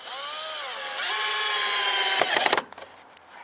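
Cordless power drill whirring as it drives a screw into a wooden fence post for feather-edge fencing, a steady rising whine for about two seconds, then a few short bursts as the screw seats, close and loud.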